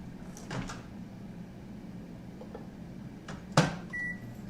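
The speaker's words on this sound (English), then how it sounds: "I'm going to microwave it for 2 minutes." A microwave oven door clicks shut, then a low steady hum runs beneath faint kitchen clatter as a frozen chicken breast heats, with a short electronic beep near the end.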